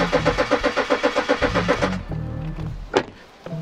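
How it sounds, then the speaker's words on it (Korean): A BMW X6 30d xDrive diesel engine with a failed high-pressure fuel pump cranks rapidly with a rhythmic chug of the starter for about two seconds without catching, then stops, followed by a click. "현재 시동을 걸면 크랭킹이 돼요"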